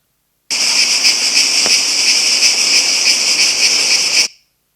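Cicada singing loudly and close, a dense, continuous buzzing shrill that starts abruptly, holds steady for nearly four seconds with no voices, and cuts off sharply.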